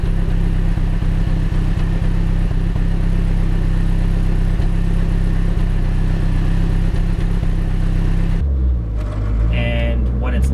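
Car engine idling before a repair, a steady low rumble with an even rhythm running loud and close for most of the stretch, then cutting off abruptly as voices and other sounds take over near the end.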